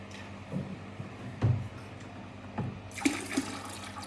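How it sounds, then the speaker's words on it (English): Saltwater poured into a bucket during a saltwater aquarium water change, a faint continuous sloshing and trickling of liquid with a few soft knocks, heard alone. "I have poured for half of the bucket, so the water is enough."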